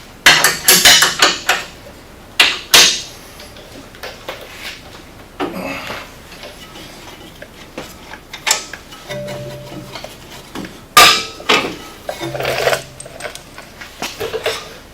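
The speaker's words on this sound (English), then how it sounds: "I'm going to go ahead and remove my lower shock bolt." Removing the lower shock bolt on a Polaris RZR S brings sharp metallic clanks, taps and ratcheting clicks from tools and hardware, scattered in irregular close bursts with quieter gaps between.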